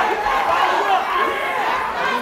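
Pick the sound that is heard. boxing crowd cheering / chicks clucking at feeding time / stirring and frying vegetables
boxing crowd cheering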